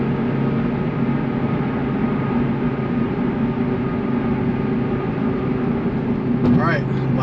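Inside the cabin of an 800HP Cobra cruising in sixth gear at 70, a steady loud low engine drone and road roar fills the car, with a short voice near the end.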